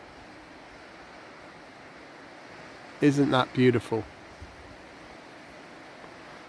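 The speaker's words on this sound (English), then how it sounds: "You could hear this water as we was coming around the corner" Steady rushing water from a waterfall along a hiking trail between Heddons Valley and Lee Bay, a constant broad wash with a brief burst of speech over it midway.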